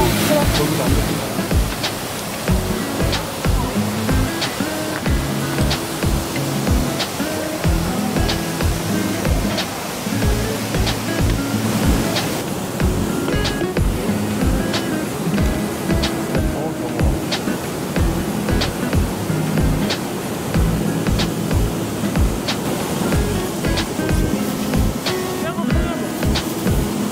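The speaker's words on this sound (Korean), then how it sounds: "이게 연산 폭포네" Steady rushing roar of Yeonsan Falls at Naeyeonsan, Korea, broad and continuous, with occasional voices and rustling close by.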